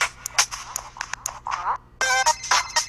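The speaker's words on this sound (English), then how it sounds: "Is that your phone? My phone." A mobile phone ringtone goes off during a podcast recording, a bright repeating electronic melody in short bursts that gives way to a steadier chiming passage, with faint talk around it.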